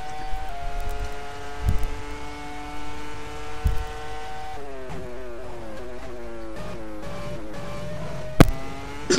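Onboard engine of a race car in a sim racing game, a close, steady high-pitched drone that rises and shifts pitch through gear changes, with brief sharp clicks and no talk.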